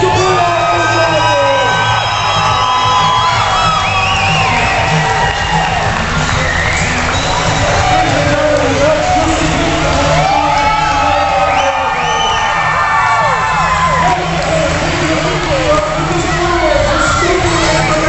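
A large arena crowd at a roller derby bout between the Arizona Renegade Rollergirls and San Diego cheers, whoops and yells loudly and without a break, with a roar that swells and falls across the whole stretch.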